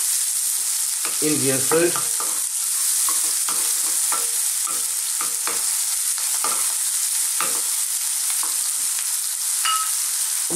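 Chopped fresh garlic and ginger frying in a pan for a mushroom chickpea curry, a bright steady sizzle punctuated by repeated scraping stirs, with a brief spoken phrase early on.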